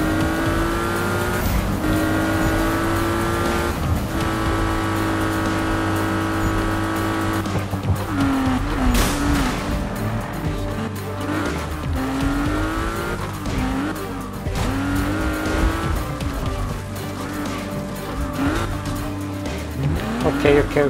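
A race in a Need for Speed video game: engines roaring and revving continuously with gear-shift pitch sweeps and tire squeals, loud and close, with a voice speaking over the action.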